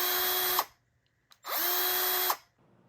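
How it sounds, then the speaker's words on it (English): Two sustained bursts from an electric drill, each running just under a second with steady high whine, separated by a short pause and a faint click; loud and close, no talking. "you got it right. Electric drill."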